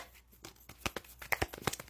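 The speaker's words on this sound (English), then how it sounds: "Be patient as I'm shuffling the cards." A deck of cards is being shuffled: quiet, close riffling and papery flicks in short irregular bursts, building to a few sharper snaps, with no talking.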